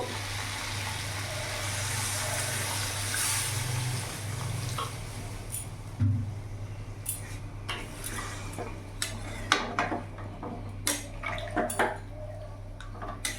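Water poured into a pan of potol and paneer curry makes a sustained hissing rush and sizzle at first, then settles into quieter bubbling with scattered clinks of a utensil against the pan.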